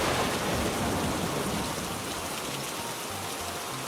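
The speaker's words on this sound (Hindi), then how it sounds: "इस बारिश ने क्या कर दिया आज।" Steady rain falling in a cartoon village scene, a soft even hiss of drops that stays constant throughout with no voices.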